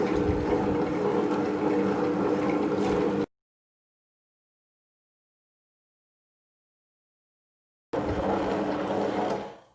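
A wet grinder churns kodo millet into batter with a steady, watery whirr. It cuts out for several seconds of silence, then starts running again.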